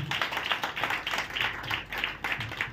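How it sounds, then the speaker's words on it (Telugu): A church congregation claps together in a quick, steady rhythm of bright, moderately loud claps, with faint voices underneath. "నీతి మంత్రులంతా చప్పట్లు కొట్టాలి సరే గట్టిగా."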